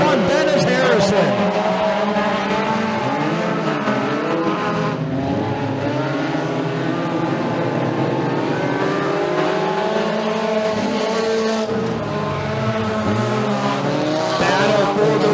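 Race cars circle Bradford Speedway in a heat race, their engines droning and revving continuously at steady loudness as the lead pack battles down the back straightaway, with an announcer talking over the engine noise.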